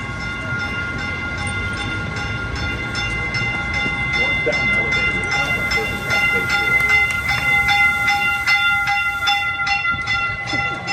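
A special unscheduled train rolls through a station, its loud, steady rumble and wheel clatter joined by sustained tonal horn or brake tones, heard close and continuous throughout.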